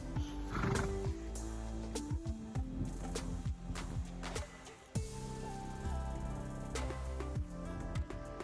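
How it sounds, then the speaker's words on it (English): Horses are walked on a farm in France, with neighing, snorting and scattered hoof thuds close by, plus sharp knocks and low rumbles throughout. "Just walking my horses."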